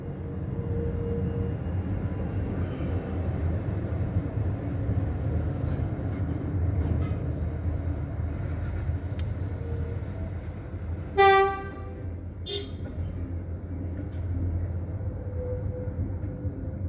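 A train runs on rail tracks through a town centre beside a main highway, with a low steady rumble throughout and one loud, brief horn blast toward the end.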